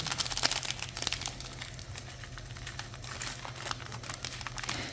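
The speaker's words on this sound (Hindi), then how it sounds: "तकरीबन अंदाजे से मैंने आधे से ज़्यादा पैकेट डाल दिया इसमें।" Dry crinkling and rustling of a plastic masala spice packet as the seasoning is shaken out over chicken for achar gosht, a steady close crackle with small sharp ticks, alone without talk.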